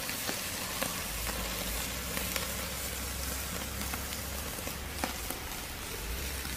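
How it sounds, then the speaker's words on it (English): Tri-tip beef searing over a Weber kettle grill: a dense, even crackling sizzle with occasional small pops, close and steady throughout, under a low rumble, with no speech. "We're just going to take our tri-tip and we're just going to sear it."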